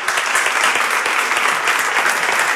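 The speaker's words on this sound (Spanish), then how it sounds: "Y un aplauso." An audience at a political communication talk breaks into sustained, dense clapping, loud and close, with faint voices underneath.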